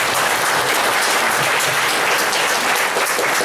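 An audience at a university lecture on Taiwan's legal status gives a guest speaker a loud, sustained round of applause, thick and even for several seconds.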